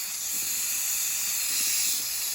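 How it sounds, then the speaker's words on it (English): A Nuwave 13-quart electric pressure canner processing bacon ends and pieces lets out a steady, close, loud hiss of escaping steam, unbroken for a couple of seconds with no talking. "I can hear the inside of the pressure cooker too."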